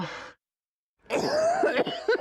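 A harsh, raspy cough up close, a short burst followed by silence and then a longer fit of several hacking coughs.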